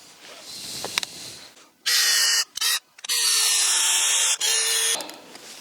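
A power drill drives long screws into a wooden barn door in several loud close bursts of high whine, separated by brief pauses and a few quiet knocks.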